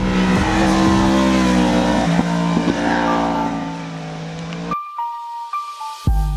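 Yamaha R1 sport motorcycle with a 197-horsepower engine revving hard, a loud sustained high-pitched wail that climbs and shifts, then cuts off abruptly before a few short sharp blips near the end.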